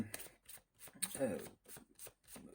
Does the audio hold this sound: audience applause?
no